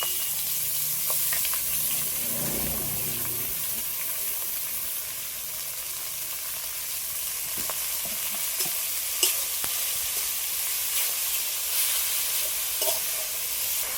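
Leafy greens and torn green chillies frying in a pan with onions, a steady loud sizzle and hiss with occasional stirring clinks, close up and without talk.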